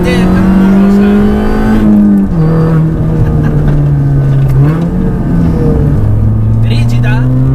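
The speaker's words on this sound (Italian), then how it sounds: "come potete sentire dallo scarico, è dannatamente rumorosa." A modified Mini Cooper S R53 with a loud free-flowing exhaust driving hard, its engine note droning and shifting pitch through gear changes and throttle lifts, close and dominant throughout.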